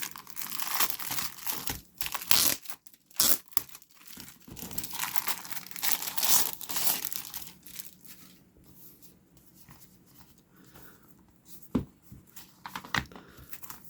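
A plastic bag crinkles and tears as an 8.7-inch Danycase tablet case for the Xiaomi Redmi Pad SE is pulled from it, bursts of close, loud crackling rustles that ease into quieter handling with a few sharp snaps.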